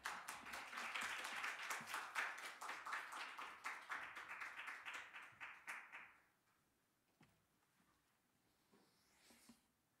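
An audience claps to welcome a speaker, dense lively applause for about six seconds that then stops abruptly, leaving a quiet room with a few faint scattered sounds.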